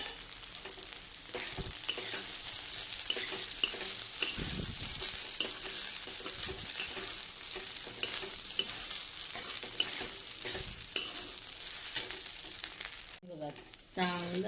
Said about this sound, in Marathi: आता हे साबुदाणा त्याच्यात घालायचं आहे आणि चांगला मिक्स करून घ्यायचं आहे